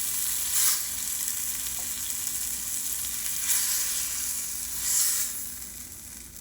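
Pork chops frying in a skillet, a steady close sizzle with soft crackling and spitting throughout, swelling briefly a few times, with no voices.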